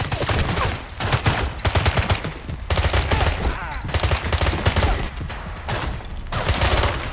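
Rapid bursts of automatic gunfire in the James Bond 007 Blood Stone video game, loud and close, with dense repeated shots and brief pauses between volleys.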